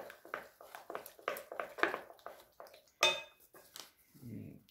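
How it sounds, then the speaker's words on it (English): Flour being stirred into vetkoek dough in a bowl, a series of soft rhythmic scraping and tapping strokes, close and quiet, with one sharper clink near the end. "And the first one I'm just going to stir in."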